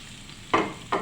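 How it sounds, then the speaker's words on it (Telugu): Oil being poured into a frying pan and hitting the hot surface, two short bursts of sizzling and hissing starting at once, close and moderately loud, with quiet gaps between. "ప్యాన్ మీద నూనె పోస్తున్నాను."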